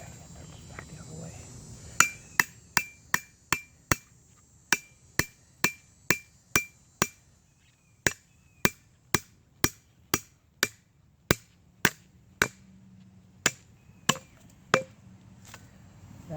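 Wedge hammered into knotty hardwood fatwood, a long run of about twenty sharp, ringing metallic strikes at a steady, brisk rhythm, close and loud, with a faint insect-like hum in the background and no talking.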